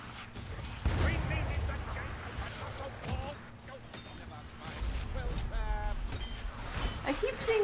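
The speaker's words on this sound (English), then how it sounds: "The cannon lowers. There we go. And now we should be able to fire it." A cannon in Vermintide II booms at close range with heavy low thuds and rumbling echoes, accompanied by scattered clanks and game effects, while players talk over the action.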